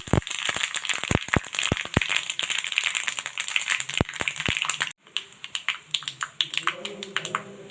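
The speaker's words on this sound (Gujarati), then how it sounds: "બધું આપણે વઘારી નાખી દઈશું." Cloves, black pepper, cardamom, mustard seeds and fenugreek crackle and pop sharply in hot oil for a spice tempering. Dense snapping fills the first five seconds, then gives way to a softer, steady sizzle.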